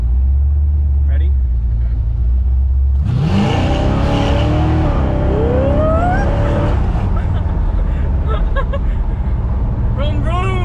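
A 700 hp 1971 Corvette with a 454 big-block engine revs loudly from about three seconds in, its pitch sweeping up and down in rising bursts over a deep idle rumble, with people talking in the car.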